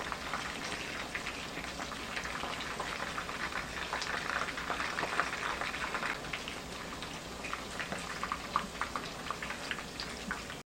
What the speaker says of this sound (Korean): 이렇게 조금 고온으로 튀겨주셔야 바삭한 튀김이 만들어집니다.